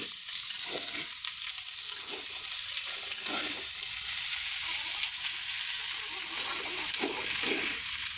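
Bitter gourd frying in a pan, a continuous close sizzle and hiss of hot oil broken by repeated scraping stirs of a utensil, with no talking.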